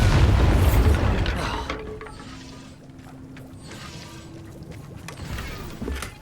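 A Bombarda spell explodes in Hogwarts Legacy, giving a loud, deep boom that rumbles and then settles into a lingering, fading tail with faint mechanical clatter.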